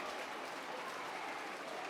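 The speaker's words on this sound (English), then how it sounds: "And there's applause around the stadium." A stadium crowd at a Super League rugby league match between Hull KR and Huddersfield Giants applauds a try, a dense, sustained wash of clapping heard from a distance throughout.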